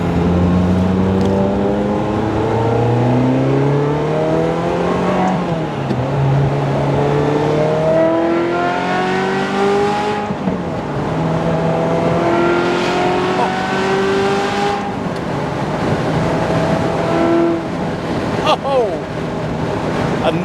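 A Ferrari F355 engine revving and accelerating through the gears, rising pitched wails that drop at each shift, loud and close, with a voice talking over it at times.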